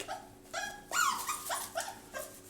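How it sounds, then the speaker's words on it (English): A female puppy whimpers and whines in a series of high, wavering cries with brief grumbly growls, fairly close and moderately loud, heard alone with no talk. "Oh, that's my puppy in the background. You can hear her."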